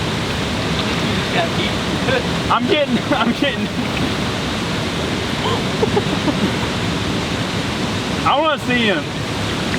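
A raging river rushes in a loud, steady roar of churning water, with someone talking excitedly over it during a fishing fight.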